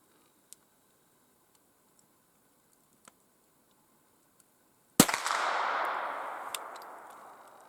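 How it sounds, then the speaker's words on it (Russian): A powder charge is fired at a can in the taiga, one loud sharp gunshot cracking out after several seconds of near silence broken by faint ticks, followed by a long rushing decay that fades gradually. "Слышали, какой громкий сейчас выстрел был?"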